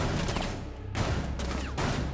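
Gunfire in a Rainbow Six Siege ranked match on Border comes as dense bursts of rapid shots, loud and close, broken by brief gaps.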